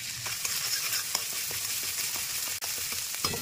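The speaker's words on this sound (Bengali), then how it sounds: "এটা একটু ভেজে নেবো।" Crushed ginger and green chili fry in hot oil with a pinch of asafoetida, a close, continuous crackling sizzle broken by light spoon taps and one brief dropout.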